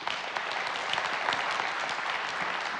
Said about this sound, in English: So I think we should give a quick round of applause for the front folks for putting this together.